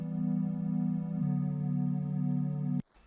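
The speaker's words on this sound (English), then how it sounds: "You'll see I've put up a new Electra instance, and that sounds like this." An Electra synth preset in FL Studio plays a sustained, eerie, buzzy tone rich in overtones that shifts pitch slightly midway and holds for nearly three seconds before cutting off abruptly.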